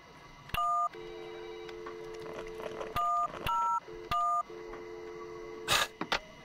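A virtual office phone in the Job Simulator game gives a series of electronic dual-tone beeps and longer steady tones, sounding in short separate bursts, clear and close, with no talking.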